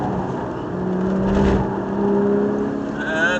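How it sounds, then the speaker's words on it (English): Inside a car at Silverstone circuit, the engine drones steadily with a humming tone while the car brakes hard and turns in, a close, continuous sound. "On the brakes now, big brake, slow the car down, and then we're turning in now"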